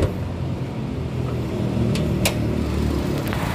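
A 2008 Nissan X-Trail T31 with a 2.0-litre inline four-cylinder engine idles steadily up close, a loud even rumble with a couple of faint clicks.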